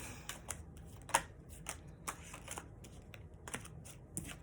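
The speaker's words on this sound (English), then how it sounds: "so I'm going to keep shuffling" Tarot cards being shuffled by hand, with soft papery riffles and light slaps recurring in a loose, irregular rhythm, close and fairly quiet, with no talking.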